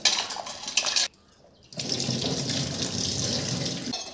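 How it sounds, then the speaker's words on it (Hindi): Taro root being rubbed and washed under a running tap in a kitchen sink, with loud steady water splashing, a brief pause, and then continuous flow with faint handling clatter. "सारू को भल भाव रे रगड़ी की धोई नेबा"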